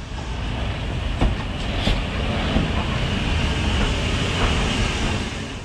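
An old railway carriage train rolls past nearby, giving a loud, continuous rumble with rhythmic clickety-clack from the wheels over the rail joints and a rushing wind-like roar throughout.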